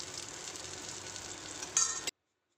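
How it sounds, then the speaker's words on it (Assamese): Pieces of brinjal fry in hot oil in a kadai, a steady close sizzle with bubbling crackle that swells briefly near the end before cutting off. "তেলত বেঙেনাখিনি ফ্ৰাই কৰি ল'ম আগতে অলপ"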